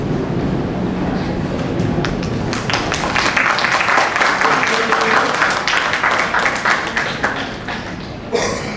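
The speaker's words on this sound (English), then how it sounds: "I'm intrigued if you're applauding for the statements on Russia" Sustained applause from a conference panel audience, a dense, steady wash of many hands clapping throughout, swelling slightly in the middle and fading near the end.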